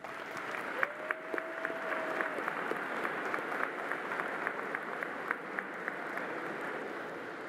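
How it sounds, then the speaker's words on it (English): Thousands of new students in a university arena at convocation applaud together, a steady, fairly distant wash of clapping with a few sharper individual claps standing out throughout. "Give yourselves a round of applause."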